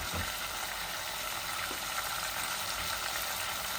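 Steady, close sizzling of chicken curry frying in a nonstick frying pan, a continuous hiss with faint bubbling and no voices.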